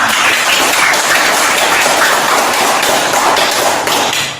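A classroom of students applauds together, a dense, loud, continuous wash of clapping that holds steady for several seconds before tapering slightly at the end.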